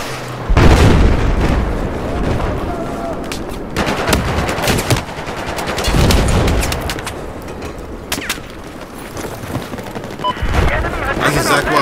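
Dense rapid gunfire with rocket blasts and heavy booms in the Battlefield 4 video game, loud and continuous with bursts clustering throughout, while someone talks over the action.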